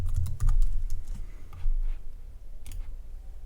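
Keys tapped on a computer keyboard entering an employee code at a point-of-sale cash-in screen, a short burst of crisp clicks in quick irregular rhythm, close and fairly loud, with no talking.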